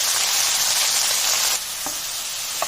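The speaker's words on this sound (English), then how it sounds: "Now we will add pudina to it. We will fry until" Pudina (mint leaves) sizzling in hot oil in a pan, a steady loud hiss that drops suddenly partway through, followed by a couple of light clicks of stirring.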